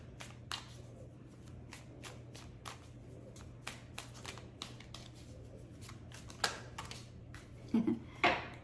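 Tarot cards riffled and shuffled by hand in a quiet room, a steady run of crisp papery flutters with a low hum beneath and a few sharper snaps near the end.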